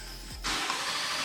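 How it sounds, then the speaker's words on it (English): A 2019 Ford F-150 Raptor truck engine, with a check engine light on, cranks briefly, then catches and settles into a steady running rumble. "We're gonna try to start the car and see if we still have the check engine."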